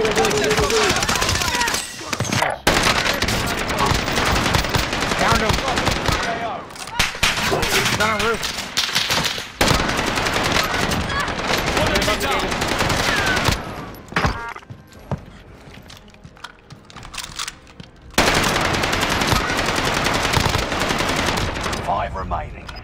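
Video game gunfire, with loud, dense automatic bursts and rapid shots that nearly fill the clip and break off briefly a few times. Voices talk over the shooting.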